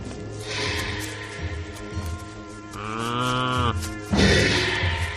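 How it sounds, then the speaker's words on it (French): Cattle and buffalo are driven out to pasture, with several drawn-out lowing moos overlapping one another and rising in loudness toward the end, heard alone without talk. "Conduis les buffles de la bourre. Conduis les vaches."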